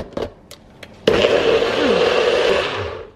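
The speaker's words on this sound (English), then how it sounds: "let's see how this blender works out" A blender whirs loudly, mixing an egg bite batter with cottage cheese and cheese; a few light clicks come first, then a steady motor whine runs for about two seconds and fades out.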